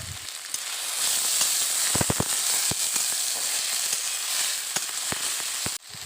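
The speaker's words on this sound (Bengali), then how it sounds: "পেঁয়াজগুলোও ভাজা ভাজা হয়ে গেছে তার মধ্যে দিয়ে দেব সেই ভিজিয়ে রাখা সাবুদানাগুলো" Soaked sago pearls go into a pan of frying potatoes and onions, producing a loud, continuous sizzle with a few sharp stirring knocks, close up, ending abruptly.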